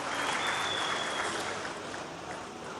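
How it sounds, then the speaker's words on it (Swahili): A crowd of Yanga Classic football club supporters claps and cheers for a female fan, dense steady applause that holds strong and then tapers slightly near the end. "Kupigeni makofi dada yetu bwana."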